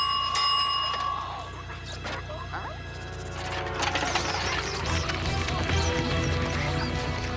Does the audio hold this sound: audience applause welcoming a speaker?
no